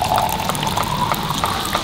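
Water pours steadily into a pot for Turkish coffee being made outdoors beside a rocket stove, a close, continuous splashing trickle lasting under two seconds.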